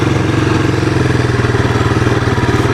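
A 1985 Honda ATC 250SX three-wheeler engine runs loud and close, its rapid even firing pulses holding steady with no voices.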